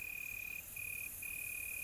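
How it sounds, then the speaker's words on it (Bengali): A single cricket chirps in a steady high trill with a couple of brief pauses, faint and alone against a quiet background at a deserted train station at night, in an animated horror story. "ঝিঝি পোকার ডাক ছাড়া আর কোনো শব্দই কানে আসছে না"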